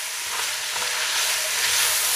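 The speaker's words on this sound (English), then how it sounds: "we're just going to fry that off for about 10 minutes" Diced carrot, celery and onion fry in a soup pot over medium heat, giving a steady close-up sizzle and crackle that builds slightly and continues unbroken, with no voices.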